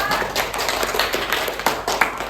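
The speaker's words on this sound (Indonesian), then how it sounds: "Tepuk tangan dong untuk Indah." A small classroom group at a microteaching session claps briefly for a student, a short burst of scattered, uneven claps over a couple of seconds.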